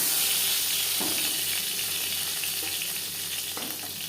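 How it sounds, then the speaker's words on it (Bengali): Fish fries in a small amount of oil in a pan for a cumin-paste and green-chilli fish curry, a steady close sizzle and crackle running throughout with occasional soft pops, fairly quiet and with no talking. "আপনারা চাইলে এর থেকেও কড়া করে ভেজে নিতে পারেন"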